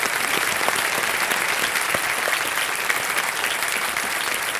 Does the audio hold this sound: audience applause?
yes